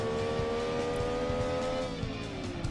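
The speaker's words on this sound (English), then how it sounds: "This engine sound is pretty strange." Simulated car engine from the racing video game Gran Turismo 2 in a one-make event, a steady droning whine with tonal harmonics that dips slightly in pitch late on, with soft tire scrubbing beneath and no talk.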